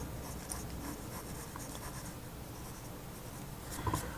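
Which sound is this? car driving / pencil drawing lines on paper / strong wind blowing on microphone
pencil drawing lines on paper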